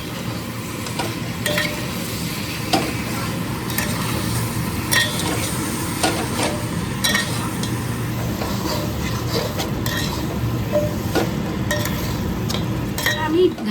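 Chicken pieces added to a pan of cooked-down tomato masala for Kolkata-style chicken biryani, sizzling steadily with repeated stirring and scraping of a spoon against the pot throughout, close and continuous.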